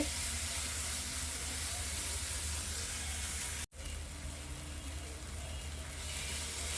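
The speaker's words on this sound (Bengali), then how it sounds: "এখন আমি এটাকে নেড়ে নেব যতক্ষণ পর্যন্ত না টমেটোটা গলা গলা হয়ে আসে" Chopped tomatoes sizzle and hiss steadily in a frying pan as they are stirred while cooking down for a spicy coral fish curry, a soft continuous frying noise broken by one brief dropout midway.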